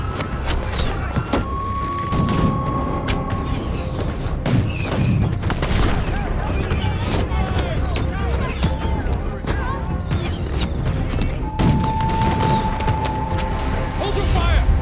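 Musket gunfire at a Battle of Bushy Run reenactment, with scattered booming shots and thuds amid outdoor noise, while people shout and talk throughout.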